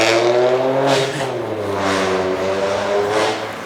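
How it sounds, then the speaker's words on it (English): A loud motorbike passes along Chester Road, its engine droning steadily with rising and falling revs, close and prominent throughout with no talking. "he never had a motorbike that was that loud"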